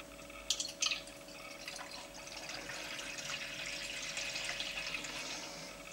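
Film developer poured into a Jobo CPE2 processing tank for 4x5 film, a steady soft liquid rush lasting several seconds after a couple of brief clinks near the start, close and fairly quiet with no talking.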